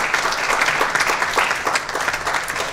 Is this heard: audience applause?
yes